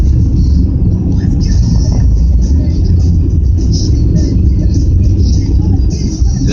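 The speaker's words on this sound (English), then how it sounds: "the roads are very, very snowy, so we're driving very carefully" Car rolling slowly and carefully along an icy, snow-covered mountain road in Georgia, a steady close low rumble of engine and tyres filling the clip without break.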